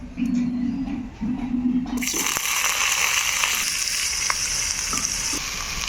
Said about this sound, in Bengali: এবারে বেগুন আলুটাকে লাল লাল করে ভেজে নেব।